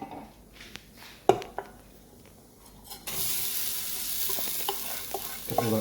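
Rice tipped into a hot frying pan with pine nuts and cumin, then stirred: a few sharp scrapes and clatters, followed by a loud, steady sizzle that fills the rest of the moment, close up with no talking.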